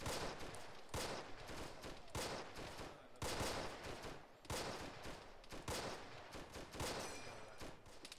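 Rifle fire and machine gun bursts in a WW2 battle reenactment come in dense, repeated volleys, loud and continuous, with sharp cracks spread across the whole stretch.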